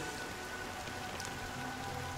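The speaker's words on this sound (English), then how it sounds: "But it's still raining." Steady rain falls in the video game Honkai Star Rail, a dense, even patter of drops hitting surfaces that carries on without a break and with no voices over it.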